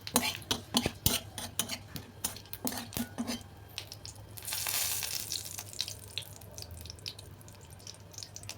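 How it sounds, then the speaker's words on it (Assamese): Panch phoron spices hit hot mustard-style oil left from frying fish, preceded by clinks of a metal spoon and pan; a brief, bright sizzle bursts up for about a second, then settles into faint crackling. "এয়া মই মাছ ভজা তেলতে অকণমান পাঁচফোৰণ দি দিম"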